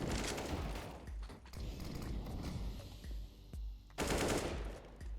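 Counter-Strike gunfire on the Overpass map, with bursts of loud rapid shots that break off, a quieter stretch of clicks and game noise, then a final heavy burst.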